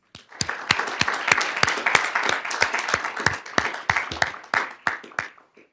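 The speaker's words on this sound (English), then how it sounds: "If you'll join me to give them a round of applause" A small crowd at a city council meeting applauds, with many individual claps starting sharply, holding steady for several seconds, then tapering off to silence.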